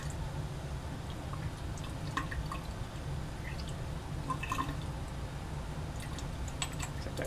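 Water runs steadily into a lab sink, a continuous low rushing with scattered drips and small splashes, heard alone and fairly close.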